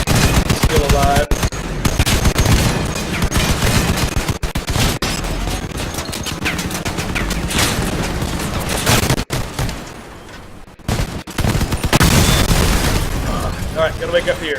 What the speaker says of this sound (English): good shot with all of his missiles